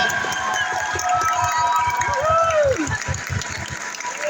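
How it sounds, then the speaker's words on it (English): School audience applause for teachers, principals and administration, a crowd clapping rapidly in a steady patter, loud and close, with a voice and a brief whistle-like tone over the clapping. "let's give a big round of applause to your teachers, your principals, and your whole entire administration"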